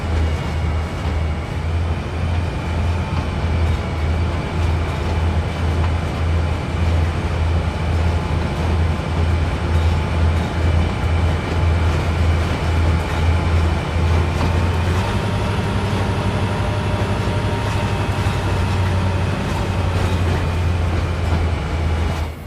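MBTA Boston commuter train rolling along in the Train Sim World simulator, a loud, steady low rumble with constant track and motor drone that shifts slightly in pitch partway through.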